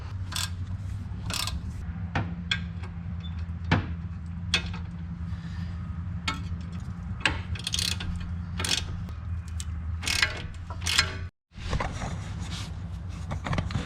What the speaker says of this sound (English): up here I found my 13mm spanners, ring spanners, and they fit in there